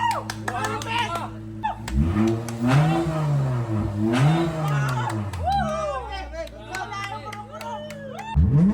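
Lexus IS350 engine revved hard to high RPM, rising and falling in strong sweeping pulls, loud and close, with crowd chatter and a voice around it.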